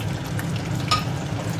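Bay leaf, dried chilli, cardamom and cinnamon sizzle in hot oil in a pan, a steady close frying crackle with a few sharper pops and stirring noises, no voices.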